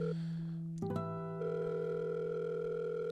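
A telephone ringing tone on a mobile call, heard after a burst of keypad-like clicks, with a steady held tone filling the line and no voices.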